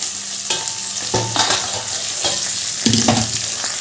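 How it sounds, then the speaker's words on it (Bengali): Potatoes fry in a hot pan with a steady loud sizzle, punctuated by several scraping stirs of a spoon against the pan, close up and without talk. "এবার আলুগুলো ভালো করে ভেজে নেব"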